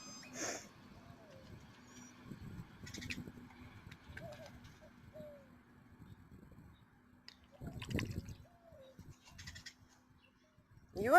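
Soft, intermittent cooing from a pet pigeon indoors, a few low rounded calls spread across the stretch with small splashing or handling noises between them, fairly close but quiet.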